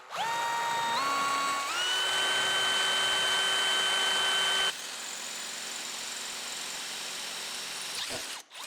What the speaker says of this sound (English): I'll take my hand drill and we'll drill straight through this pipe.